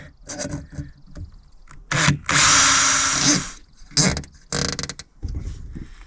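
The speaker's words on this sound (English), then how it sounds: "I think I'm going to drill a hole through this panel" Bursts of a power drill whining through a truck camper panel, starting and stopping several times, with a long loud stretch in the middle and quieter handling noise between.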